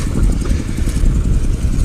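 A tractor engine runs steadily nearby on a rural lumber-yard lane after losing a harrow, a dense low rumble pulsing throughout with no voices.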